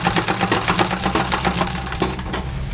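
Sewing machine running steadily with a rapid, close needle rhythm while stitching Ankara fabric joggers, a continuous loud mechanical patter with no pauses.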